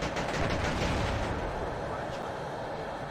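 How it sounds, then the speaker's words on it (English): A tank's machine gun in WARNO hammers away in a thick, sustained roar of rapid fire, loud and continuous, with low rumbling from the battle beneath it. "I love the sound of the machine guns on these now."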